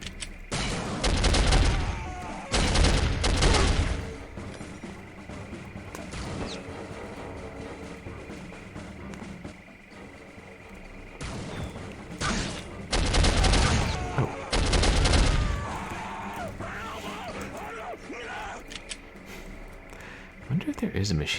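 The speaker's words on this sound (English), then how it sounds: "we have a really powerful machine gun" Powerful machine gun in a video game firing in several loud, dense bursts separated by quieter stretches, close and sharp, with a voice talking over parts of it.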